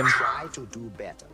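Dogs bark and yip at a disturbance, a few short sharp barks following a man's brief speech, close by indoors.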